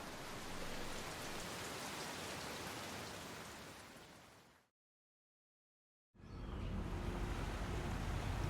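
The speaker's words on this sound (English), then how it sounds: "The sound of rain upon glass" Rain falls on glass in a dense, steady hiss of patter that cuts to silence for a moment and then returns, with no voices.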